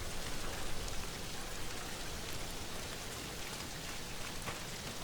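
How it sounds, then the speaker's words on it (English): Steady pouring rain in Ghost of Tsushima during a stormy duel, a continuous dense hiss of drops at moderate level, with no voices over it. "the pouring rain and lightning"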